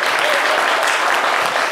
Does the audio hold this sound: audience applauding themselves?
yes